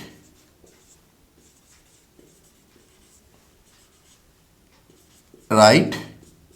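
Chalk or marker strokes on a board during a mathematics lecture on vector spaces, faint scratchy taps repeating for several seconds before a voice speaks loudly near the end.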